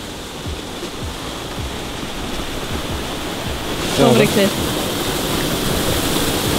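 Water rushing steadily over a waterfall, heard up close as a broad, unbroken roar throughout, with a brief voice cutting in partway through.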